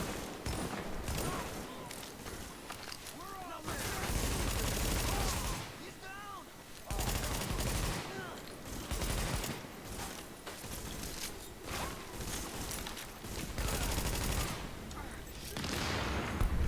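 Heavy automatic gunfire in The Division, with bursts and fusillades rattling through a tense combat scene while supplies come under attack, the shooting steady and loud across the stretch.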